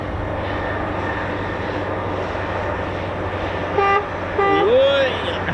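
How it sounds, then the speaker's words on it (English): A low jet rumble from aircraft with Pratt & Whitney F100 engines arriving at RAF Fairford's air tattoo runs throughout, with brief tonal honks and voices rising near the end. "Yes, that sounds like a Pratt & Whitney F100 engine."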